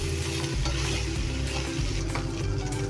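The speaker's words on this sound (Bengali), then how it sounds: "আমি সবগুলো মিশিয়ে নেব।" Chicken fried rice with capsicum is stirred in a hot pan, giving a continuous sizzle with repeated scraping and stirring strokes, close and steady, with no talking.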